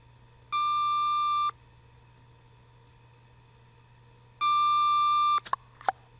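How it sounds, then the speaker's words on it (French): A mobile phone ringtone sounds as an inspector's phone interrupts a prefect: two steady electronic tone bursts, each about a second long and separated by a three-second pause, loud and clear over a quiet hum, followed by a couple of brief clicks. "La sonnerie du portable de l'inspecteur Gaudin interrompt le préfet."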